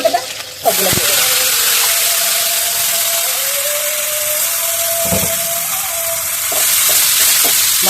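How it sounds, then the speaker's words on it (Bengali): Garlic, green chilies and coriander leaves stir-fry in hot oil in a wok, making a loud, steady sizzle with a few knocks and scrapes from stirring. A faint voice hums along underneath. "কড়াইতে দিয়ে দিলাম তেল, তাহলে দিয়ে দিব রসুন, বুঝলেন তো? রসুনটা ভাজা হয়ে গেছে, দিয়ে দিব কাঁচা লঙ্কা"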